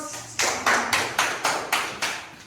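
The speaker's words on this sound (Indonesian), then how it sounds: "Kita kasih aplaus." An audience claps for a school group's project display, six or seven crisp bursts of applause arriving at a steady rhythm, each starting sharply and fading before the next, fairly close and with no talk over it.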